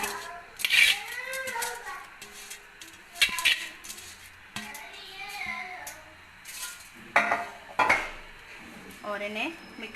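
Rice clinks and scrapes against a metal cooking pot while being stirred for chicken biryani, with a few sharp utensil knocks over about ten seconds, and a voice is heard briefly in the background.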